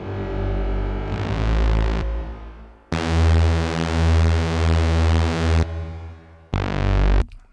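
A dark plate reverb from Valhalla Vintage Verb inside Ableton, applied to a thick, distorted synth in a speed garage style, with sustained loud chords that start and stop abruptly and long washy tails, no voices.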